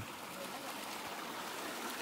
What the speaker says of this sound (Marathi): हा जो पाण्याचा झरा आहे